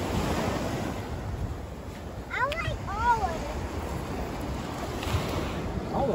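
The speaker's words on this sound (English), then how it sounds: "the water comes up and hits this little drop off right here" Ocean surf washing onto a Florida Gulf beach at St. George Island, the water rolling up against a small drop-off in the sand, a steady wash with wind noise and a person talking over it.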